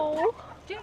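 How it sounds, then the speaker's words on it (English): Small puppies in a Thai village give two brief, high yips close by, the second softer than the first. "Can you hear the small doggos?"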